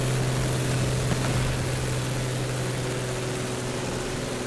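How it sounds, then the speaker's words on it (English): A Heinkel He-111 medium bomber drones steadily overhead in a WWII battle game set outside Moscow, its propeller engines giving a continuous low hum with faint distant bangs, loud and unbroken throughout. "I think it's an HE-111 coming in"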